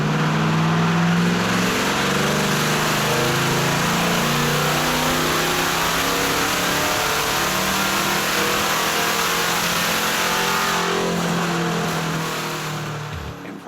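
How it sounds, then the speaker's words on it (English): A C8 Corvette fitted with a Wilson intake pulls hard on a dyno, its engine roaring loud and steady at high revs before the sound drops off at the end. "Vlad straps the car back down to the dyno to dial in the 93 octane calibration"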